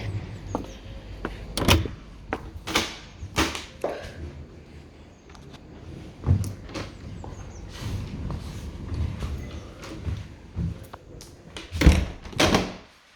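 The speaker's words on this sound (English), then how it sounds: "So the door closes fine with no problems or concerns" A house door in a move-in inspection of a property opens and closes with several sharp knocks, clunks and latch thuds spread through the stretch, close by over quiet room tone.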